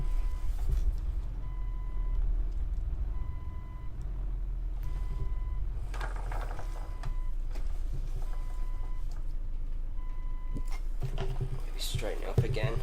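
Reversing beeps from a Renault Magnum Integral truck in Euro Truck Simulator 2, a steady repeating two-tone pulse running through most of the stretch over a low engine hum, with brief clunks and other game noises.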